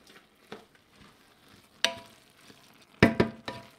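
A spoon scrapes and clatters against a pan as tomato paste is stirred in, several irregular knocks with a louder cluster near the end, over a faint sizzle and no talking.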